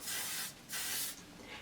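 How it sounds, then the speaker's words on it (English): Two long hissing bursts of aerosol spray, close and fairly loud, followed by a brief softer puff. "Give it a big old spray."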